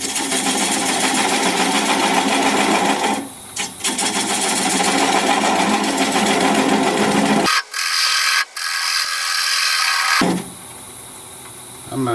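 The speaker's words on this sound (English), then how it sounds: "I'm going to use a 3/8 inch standard grind bowl gouge and commence to removing that tenon" Olive wood turning on a wood lathe at about 500 RPM while a 3/8 inch standard grind bowl gouge removes the tenon, giving a steady close scraping chatter that cuts out briefly near the end before resuming.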